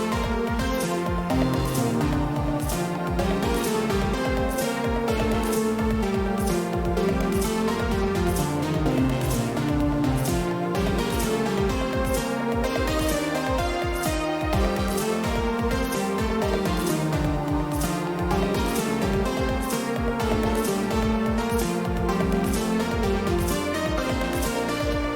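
Synth lead melody played an octave lower over a full electronic song, dense and continuous with a steady beat throughout and no talking.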